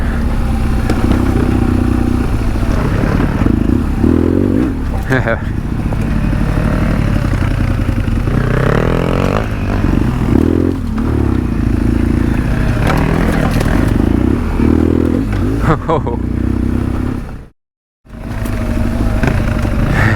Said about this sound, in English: I'm now hard enduro style crossing logs on a BMW 1200 GS Adventure.